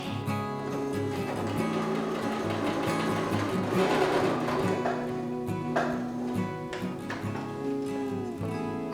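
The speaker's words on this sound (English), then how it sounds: "To finish the center seam, I'm going to press it flat and top stitch both sides." Sewing machine top stitching the pressed center seam of a homemade reusable shopping bag, running steadily and fairly loud with a rapid, even needle rhythm throughout, no talking.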